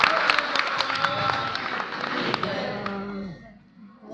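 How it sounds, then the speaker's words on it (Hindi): An indoor audience gives a birthday greeting a sustained round of applause, loud dense clapping that thins out and fades near the end. "जोरदार तालियों की गड़गड़ाहट से जन्मदिन पर हार्दिक"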